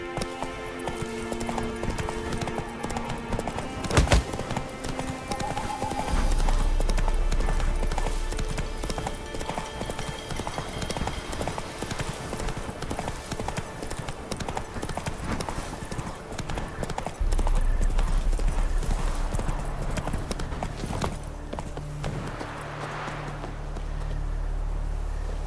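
Hooves of the horse Roach clip-clop at a steady galloping rhythm in The Witcher 3, loud and close, with in-game ambience, a brief whinny-like sound and some background game music.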